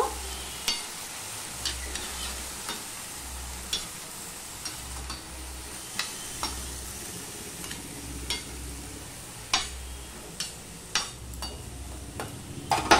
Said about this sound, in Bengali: দিয়ে একটু নুনটা মিশিয়ে নেব